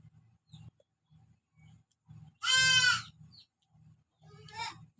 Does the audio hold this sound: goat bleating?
yes